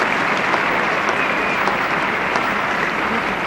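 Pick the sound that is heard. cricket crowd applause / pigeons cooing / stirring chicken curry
cricket crowd applause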